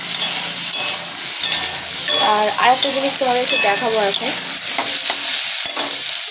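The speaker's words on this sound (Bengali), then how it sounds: "তরকারির জন্য আলুটা এখানে ভাজছি" Potatoes for a curry fry and sizzle in a pan while being stirred, steady frying hiss with rhythmic scraping strokes in the middle, someone talking briefly over it.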